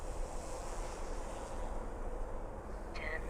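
Steady outdoor wind rushes and buffets the microphone while an Eachine E180 direct-drive micro RC helicopter flies, with a faint higher tone briefly appearing at the end.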